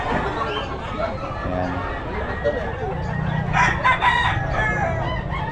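Roosters crow loudly and close amid clucking chickens in stalls at the Bocaue pet market during a rainy day, with background chatter from people nearby and several overlapping crows.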